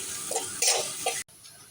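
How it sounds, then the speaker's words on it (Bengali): Chopped onions being stir-fried in a pan: a steady sizzle with a few soft stirring scrapes, close by, that briefly cuts out before continuing more quietly. "পেঁয়াজ কুচিগুলো দেওয়ার পরে নেড়ে ছেড়ে ভেজে নেব"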